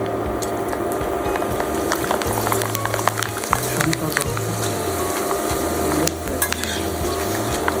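Aloo chips fry in hot oil in a kadhai with a continuous bubbling sizzle, while a utensil stirs and scrapes against the pan in irregular clinks and a voice hums low in the background.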